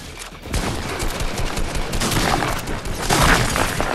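Dense, continuous automatic gunfire from the video game Fortnite, a lever action gun among the weapons, with rapid overlapping shots and bursts filling the whole stretch at steady loudness.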